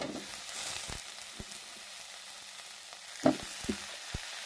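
Quiet, steady sizzling of chopped plantain and onion frying in a pan, with a few soft clinks and taps of a utensil stirring near the end.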